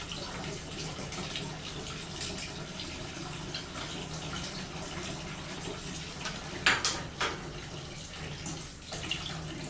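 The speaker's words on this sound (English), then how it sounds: "Do a tap water rinse." Tap water running steadily over a metal part in a plating shop rinse station, a constant hiss and splash with a few brief clinks, close and moderately loud.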